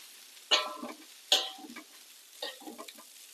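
Room-temperature cooked rice is stir-fried in a pan for Indonesian fried rice (nasi goreng). Three sharp scraping stirs each set off a burst of close sizzling, with quiet gaps between them.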